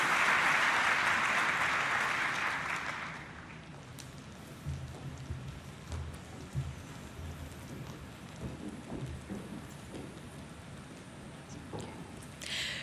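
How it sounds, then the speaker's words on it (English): Applause from a formal forum audience in Jakarta swells loudly for about three seconds and then fades into scattered clapping over a murmuring hall, with a brief rise again near the end. "Let us give the biggest round of applause for A Million Dreams"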